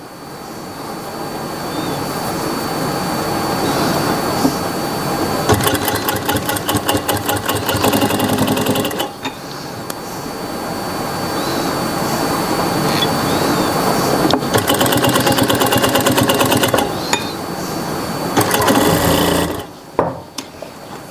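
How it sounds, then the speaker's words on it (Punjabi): Sewing machine stitching piping onto a Punjabi suit, running loud and close in long continuous bursts of rapid rhythmic needle strokes with brief pauses between runs and no talking. "ਇਹ ਸਾਰੀ ਆਪਣੇ ਸਲਾਈ ਲਗਾ ਲਈ ਹੈ ਪਹਿਲਾਂ ਆਪਣੇ ਲਾਈ ਸੀ ਇੱਕ ਸਲਾਈ"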